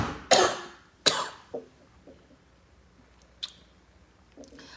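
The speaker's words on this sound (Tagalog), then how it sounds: "Oh my God, ang ubo ko." Two sharp, close coughs in quick succession, followed by a few fainter throat sounds and small clicks in an otherwise quiet space.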